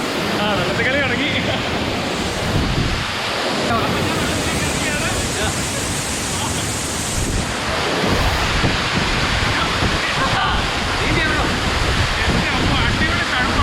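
Manalar waterfall dropping powerfully from a height, a loud continuous roar and hiss of crashing water that fills the scene from start to finish.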